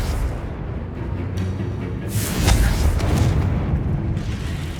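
A Confringo spell blows apart a cursed object in Hogwarts Legacy on PS5 Pro, a heavy rumbling blast that swells and peaks midway, then keeps booming at a sustained, loud level.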